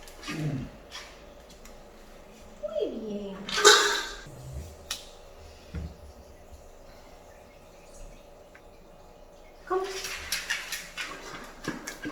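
Two dogs whimpering and whining for their dinner in a quiet indoor room, with soft intermittent high whines and brief yelps scattered over several seconds, some shuffling and a few louder bursts near the end.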